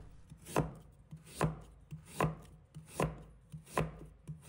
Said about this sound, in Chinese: 削完皮，把红薯切成薄片，动作要稳，尽量切得薄厚均匀。